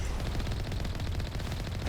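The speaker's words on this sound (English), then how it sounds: "Fortunately, I also had the machine gun." Rapid machine gun fire from the video game Mass Effect 1 rattles continuously and loudly at close range as it shoots at drones, a dense unbroken stream of shots with no talking.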